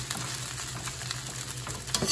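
Garlic fried rice being stirred in olive oil in a pan, a steady sizzle with scraping spoon strokes throughout, close and continuous, no talking.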